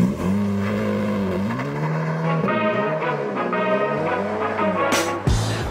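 A Ferrari Roma's 3.8-litre twin-turbo V8 idles and revs up and down nearby, a deep throbbing growl that rises and falls, ending with a sharp mechanical bang.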